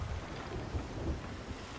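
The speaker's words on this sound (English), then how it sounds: "We're going into the storm." Storm weather in the pirate video game Sea of Thieves: a low, rolling thunder rumble mixes with rain and wind noise. It is quiet and continuous, with no voices.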